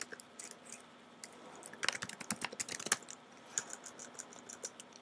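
Soft clicking keystrokes on a computer keyboard come in an uneven burst of quick taps, close and fairly quiet, with no talking.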